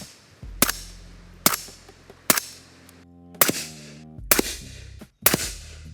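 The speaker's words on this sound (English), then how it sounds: "We're gonna test the sound signature of all of these guns." Rifle shots from a suppressed 8.6 Blackout being tested, six sharp loud reports spaced about a second apart, each followed by a short ringing tail, with no talking.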